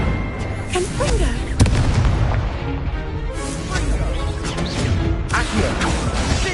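Confringo blasting spell explosions in the Hogwarts Legacy video game, a rapid series of loud booming blasts and crashes amid heavy combat noise, with a voice shouting spell names over them.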